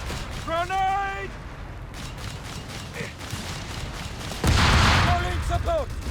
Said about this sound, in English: Pretty good grenade assault there